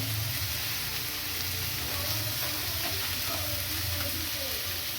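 Onion sizzling in hot oil seasoned with spices in a home kitchen, a steady crackling fry holding throughout at moderate loudness, close by.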